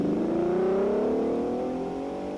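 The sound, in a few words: 1953 Ferrari race car passing Ravenna checkpoint, Mille Miglia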